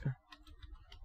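A few soft keystrokes on a computer keyboard as a command is typed into a Kali Linux terminal, faint, close and spaced out, with no talk.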